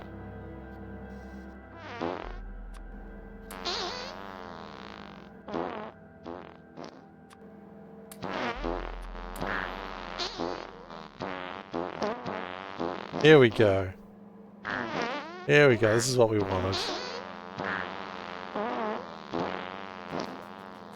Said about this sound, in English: how do you make the cool fart sounds?